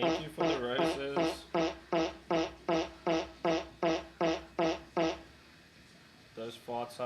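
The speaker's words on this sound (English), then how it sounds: "Those fart sounds are kind of like how I feel." Fart sound effects repeat about a dozen times in a steady rhythm during a live tattoo session, each a short, loud, buzzy burst, then a brief pause before a few more start.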